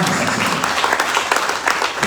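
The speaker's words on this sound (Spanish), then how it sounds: "Y te aplaudimos, Señor." A church congregation applauds during a Spanish-language Christian retreat service, a steady wash of many hands clapping fairly loud and close with no distinct talk over it.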